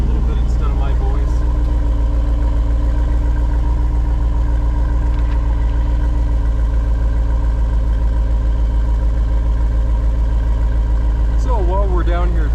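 A 2025 Jeep Wrangler 392 Final Edition V8 idles with a deep, loud, steady rumble and throbbing exhaust pulses, close by and continuous, with a voice briefly heard over it near the beginning and end.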